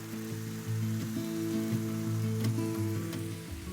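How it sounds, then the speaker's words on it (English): Rice sautéing with soy sauce in a pan gives a steady, close sizzle and crackle that runs unbroken throughout, with faint scrapes of stirring and no voices. "Saute for another couple of minutes."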